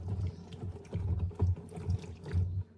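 Lemons rinsed under a running kitchen tap, a steady splashing water stream with uneven surges as the fruit is turned by hand, close and moderately quiet, no voices.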